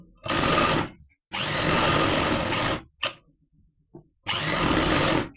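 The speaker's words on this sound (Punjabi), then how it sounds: "ਹੁਣ ਆਪਾਂ ਇਹਨੂੰ ਮਸ਼ੀਨ ਦੇ ਉੱਤੇ ਕੱਚਾ ਕਰਦੇ" A sewing machine stitches a lined shirt in three loud, close bursts of rapid whirring, separated by brief pauses with a small click and faint handling noise between runs.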